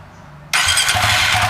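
A Suzuki FU 150 fuel-injected motorcycle engine starts with a sudden loud catch after a quiet moment, then settles into a steady, close idle with no talking.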